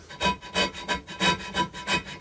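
A relatively flat hand scraper works across a lathe's metal surface in quick rhythmic strokes, about three rasping scrapes per second, close and moderately loud with no voices.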